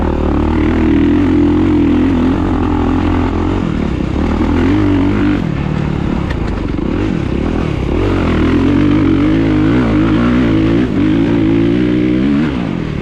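A 2023 Kawasaki KX450SR dirt bike engine roars loudly and continuously while riding, with revs rising and falling through throttle changes and a strong, constant drone, up close.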